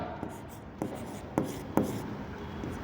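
A pen writes by hand on paper, giving soft scratchy strokes with a few sharper taps spaced through the stretch, fairly faint and close, with no talking.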